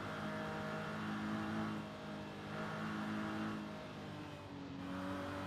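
A Nissan VQ V6 engine revs in a racing video game, its steady harmonic drone rising and falling in pitch over a few seconds, loud and continuous with no voices.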